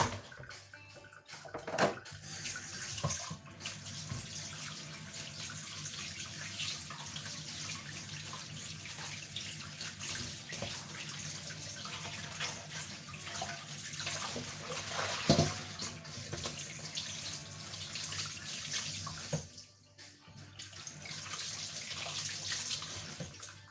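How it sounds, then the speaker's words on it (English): Tap water runs steadily into a kitchen sink while steak is rinsed, a continuous rushing splash with brief shifts in flow and a short pause near the end. "I'll wash them in the sink now."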